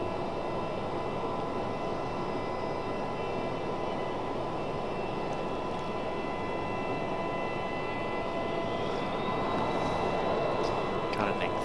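A Southwest Airlines jet departs an airport bound for Orlando, its engines a steady, continuous roar with a rising whine near the end, heard from a distance with no talking.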